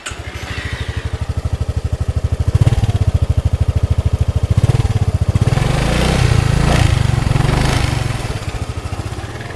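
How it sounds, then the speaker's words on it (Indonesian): A 2018 Honda Forza 250 scooter engine idles steadily after starting with a smooth, rapid, even putter, loud and close, holding a constant rhythm throughout. "Suara mesin halus banget."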